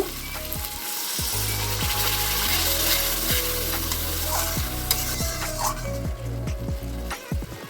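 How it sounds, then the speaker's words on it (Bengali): Ground dried chilli, cumin and coriander paste frying in oil with a splash of water, a steady close sizzle broken by repeated spatula scrapes and knocks against the pan. "সামান্য একটু জল দিয়ে মশলাটা কষিয়ে নেব"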